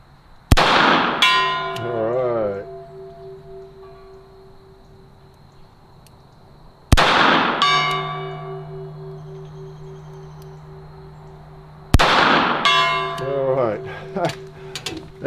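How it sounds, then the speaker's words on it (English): Three sharp pistol shots fired double action, each striking a steel gong with a loud metallic clang that rings out and slowly decays, spaced several seconds apart outdoors. "Let's see if we can hit the gong double action."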